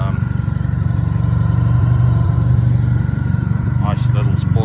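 A Honda VFR1200X motorcycle engine idles close by, a steady throbbing rumble throughout with a voice talking briefly near the end.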